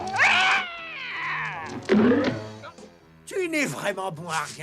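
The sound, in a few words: cartoon cat meowing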